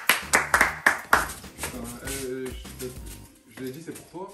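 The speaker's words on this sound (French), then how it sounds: "je voudrais un deuxième tonnerre d'applaudissements pour le cadeau" A few bursts of clapping from an audience at a French gift-giving challenge event, sharp and close at the start, then fading under loud talk and music-like tones.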